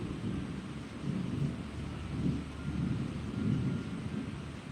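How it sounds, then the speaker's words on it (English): Thunder rolling during a heavy rainstorm, low rumbles swelling and fading several times over a steady wash of rain, faint and distant. "It's just thundering and lightning and the rain's coming down like crazy."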